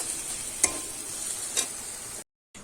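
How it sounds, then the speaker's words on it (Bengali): Chicken filling being stirred in a frying pan, with a soft continuous sizzle and two brief scrapes of the spoon against the pan before a short gap of silence; no one speaks. "দিয়ে একটু নেড়ে চেড়ে নেব"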